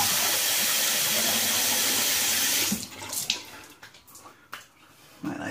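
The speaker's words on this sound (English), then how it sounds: "So that was my hot water rinse." A hot water rinse from a running tap pours steadily and fairly loudly for nearly three seconds, then cuts off, leaving faint drips and small splashes.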